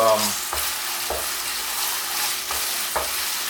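Panang curry paste of lemongrass, galangal, ginger and chilies frying in a pan, a steady close sizzle broken by several soft scraping stir strokes at regular intervals.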